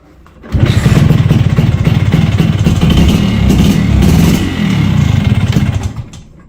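A Yamaha XS750 motorcycle, started on choke with the fuel tap opened, catches and runs loud and close, a rough pulsing engine note holding for about five seconds before cutting out.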